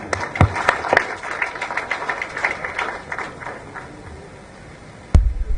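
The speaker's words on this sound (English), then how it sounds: "Another round of applause for His Excellency." Audience applause for a visiting dignitary at a Tumaini Peace Initiative gathering: a patter of clapping from a seated crowd that thins and fades out, ending with a sudden thump.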